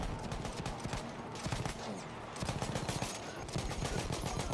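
Rapid video game gunfire rattles in dense, overlapping bursts, loud and close, as automatic weapons and single shots pile into a continuous fusillade.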